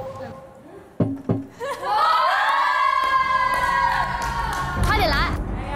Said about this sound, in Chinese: 第二组串烧演出结束，观众的热烈欢呼声像是预示了前九席位即将迎来的惊悚大洗牌